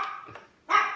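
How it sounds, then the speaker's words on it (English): An indoor dog gives a quick bark, goes briefly quiet, then lets out a louder, sharper bark close by, with no voices. "Even the dogs are excited."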